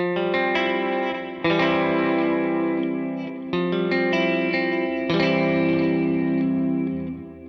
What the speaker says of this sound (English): let me just run through some sounds with the wet effects on